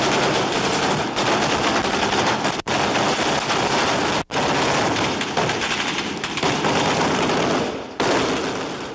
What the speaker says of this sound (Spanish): queda bloqueada en un tiroteo feroz con lo que se dice son las fuerzas del gobierno de al-Assad